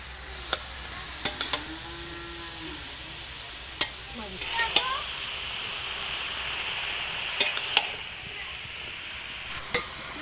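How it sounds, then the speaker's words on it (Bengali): Cauliflower is stirred as it fries in a pan over a wood fire, giving a steady close sizzle broken by scattered utensil scrapes and clinks, with voices talking now and then. "হ্যাঁ নাড়তে হবে, এখন তো কপি ভাজা হয়নি।"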